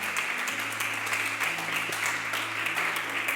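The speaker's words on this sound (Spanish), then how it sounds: "dale un fuerte aplauso a nuestro Dios" A church congregation breaks into a strong round of applause for God during a sermon, with dense clapping over sustained, held keyboard or organ tones that shift pitch partway through.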